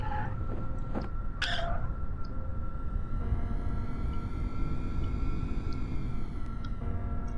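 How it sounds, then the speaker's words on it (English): Jet plane in Kerbal Space Program, with drag chutes deployed, skidding off the runway; steady loud engine roar with rising and falling whining tones and a few sharp scraping bursts early on. "No, we're skidding off the runway."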